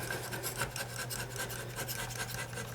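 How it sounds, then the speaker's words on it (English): A razor blade on a handle scraping old putty and soap scum from around a bathroom sink, heard as a close, rapid, rasping series of short strokes in a steady rhythm. "I've got a razor blade and a handle. And then you just can gently scrape a little bit"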